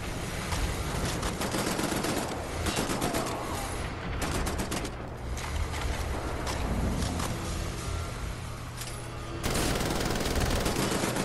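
Rapid dual-pistol gunfire in the video game Wolfenstein: The New Order, dense loud bursts of shots layered over battle noise, with short lulls between volleys.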